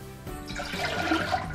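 Water pours from a tap into a small pot on the stove for polenta, a short splashing rush that builds quickly and stays fairly quiet.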